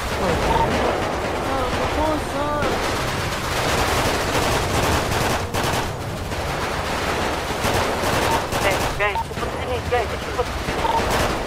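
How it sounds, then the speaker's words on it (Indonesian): Gunfire in the game GTA V, made up of bursts of shots and rapid automatic fire. It goes on without a break under excited voices talking over it. "Kok ada yang nembakin?"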